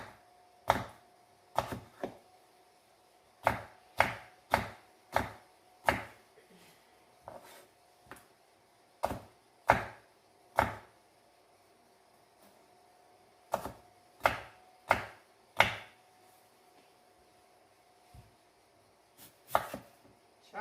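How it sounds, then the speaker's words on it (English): Potatoes are chopped with a knife on a board in a kitchen, giving sharp, close knocks in irregular bursts with brief pauses between them. "Chopping potatoes."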